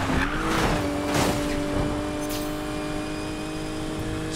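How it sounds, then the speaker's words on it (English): A BMW M4 races in the video game Need for Speed Payback: a loud, strained engine drone holds a high steady pitch while tires squeal and skid in short bursts near the start. "when I go fast, it sounds like my M4 is gonna explode"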